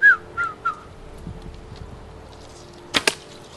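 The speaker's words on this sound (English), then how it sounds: "they were whistling" Hadzabe hunters in the bush give short sharp whistles to lure a bush baby: three quick chirps, a quieter pause, then two more near the end, close and clear.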